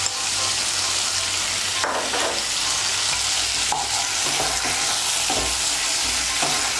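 Poppy seed paste with green chillies being mixed into papaya frying in a pan for pepe posto, a loud continuous sizzle broken by repeated scraping strokes of the spoon, close and without talk.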